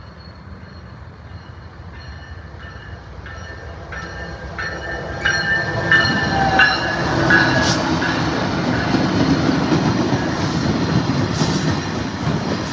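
A BNSF freight train rumbles past close by at Ottumwa, Iowa, wheels clattering in rhythmic bursts over rail joints, growing louder and holding a heavy continuous roar with occasional squeals.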